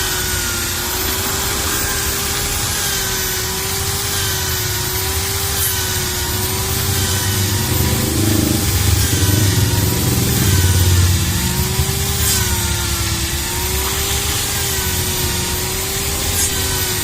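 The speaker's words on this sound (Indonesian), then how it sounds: "Jadi semua harus dibor biar kotorannya hilang." A power drill whines steadily as it bores out clogged burner holes on a Rinnai stove, a continuous high motor hum with slight pitch wobble and grinding scrapes against metal, loud and close.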